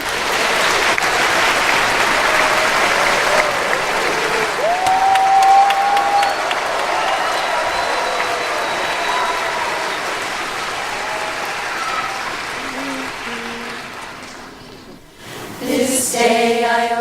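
A large audience at a Los Angeles concert gives sustained, loud applause welcoming the performers, the clapping fading near the end as music begins.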